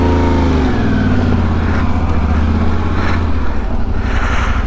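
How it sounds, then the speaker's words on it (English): A Yamaha Ténéré 700 motorcycle's CP2 twin engine runs close by, a loud, steady, low throbbing hum that holds through the whole stretch with no one talking. "So this is the CP2 engine from Yamaha."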